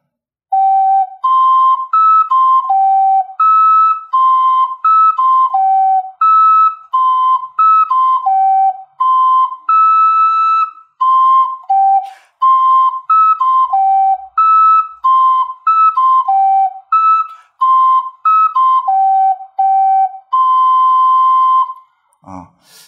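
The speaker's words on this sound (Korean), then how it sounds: "먼저 제가 천천히 불어보겠습니다" A triple ocarina plays a practice tune slowly, clear pure breathy notes stepping up and down in a steady phrase-by-phrase melody, loud and close with short gaps between phrases.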